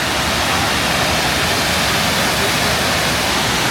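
Rockhouse Creek Falls roars steadily nearby, a loud, dense, unbroken rush of water falling into a plunge pool.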